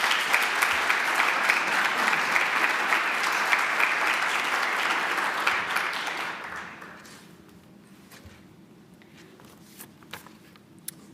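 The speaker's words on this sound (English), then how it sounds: "everyone please give another round of applause for Christopher" An audience at an honors student conference applauds a presenter, with loud, dense clapping for about six seconds that then tapers off into scattered claps and room quiet.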